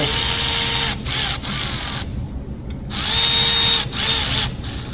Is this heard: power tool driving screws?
yes